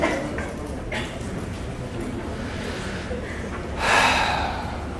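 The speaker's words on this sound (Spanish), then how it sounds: "vamos a hacer una última respiración" A deep inhalation during a guided breathing exercise in an emotional education workshop, a single loud, breathy intake swelling near the end over a steady room hiss.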